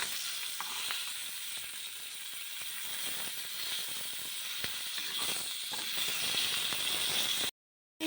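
Small chabila fish frying in a little oil in a pan, giving a continuous close hiss and sizzle with faint stirring clicks, no talk over it.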